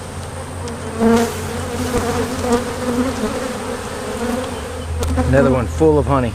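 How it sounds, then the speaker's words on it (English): Honey bees buzz steadily in a crowded spring hive box full of honey frames, a dense droning hum close by, with a person talking briefly over it. "There's a lot of bees in this box."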